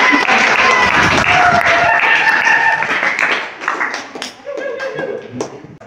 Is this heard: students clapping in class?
yes